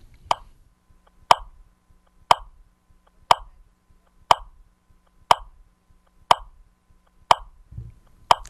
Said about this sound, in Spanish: El metrónomo es 60 bits por minuto.